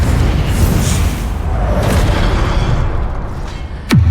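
A Confringo explosion spell goes off in the Hogwarts Legacy video game as a loud booming blast, followed by a sustained rumbling roar and a sharp whooshing streak near the end.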